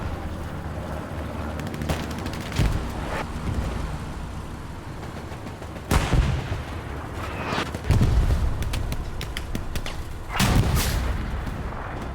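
Tank cannon shots in a World War II shooter match at night, several heavy booms ringing out with a quick double shot near the end over steady rumbling battle ambience.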